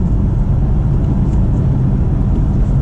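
A BMW M4 F82 cruises at highway speed under 2,000 RPM, its engine a steady low rumble droning with road and tyre noise, close and continuous with no speech.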